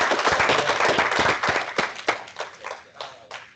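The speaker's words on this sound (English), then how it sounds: "Can we just get a round of applause?" Applause after a university business school talk, starting as a dense burst from a small audience and thinning to a few scattered, distinct claps near the end.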